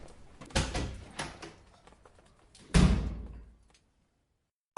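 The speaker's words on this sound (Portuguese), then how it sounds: "A porta fechou-se" A door closes in a Portuguese psychological horror audio drama: a few soft knocks and movements, then one firm thud of it shutting, followed by silence.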